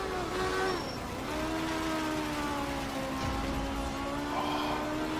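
A race car drifting in a driving video game, its engine holding a steady sustained drone with shifting pitch and a faint tire hiss running underneath throughout.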